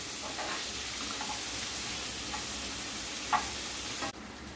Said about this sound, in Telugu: దాంట్లోనే క్యాచెస్ కూడా వేసుకుని వేయించుకోవాలి లో టు మీడియం ఫ్లేమ్లో పెట్టుకుని వేయించుకోవాలి